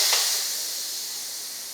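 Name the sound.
pressure cooker releasing steam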